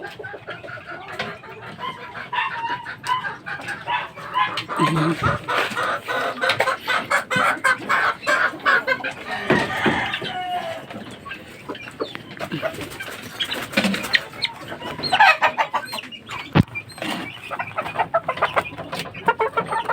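A fighting rooster (gamecock) clucks repeatedly and crows, close and fairly loud, with scattered background noise and bursts throughout.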